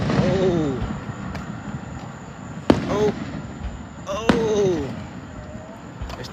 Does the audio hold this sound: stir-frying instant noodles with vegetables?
no